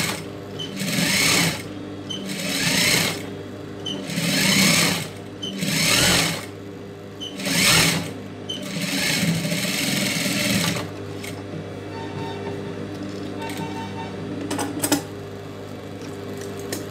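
A tailor's sewing machine stitches a blouse neck design in repeated loud, close bursts of rapid needle clatter with short pauses between runs, fading to quieter handling noises near the end.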